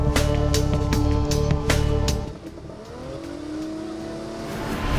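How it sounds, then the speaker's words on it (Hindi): Cars on a road, loud and close: engine tones and rumble run steadily for the first two seconds with sharp transient clicks, then shift into a gliding, rising engine whine as a vehicle passes. "गाड़ियाँ आती हैं यहाँ पे, सड़क पे चल भी रही हैं"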